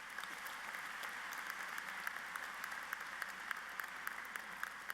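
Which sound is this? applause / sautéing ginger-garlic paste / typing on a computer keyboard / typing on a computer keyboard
applause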